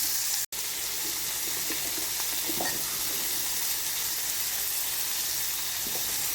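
Onions and tomato sauté in a pan for idiyappam kothu, giving off a steady, soft sizzle and hiss with faint stirring scrapes throughout, close and fairly quiet with no talking.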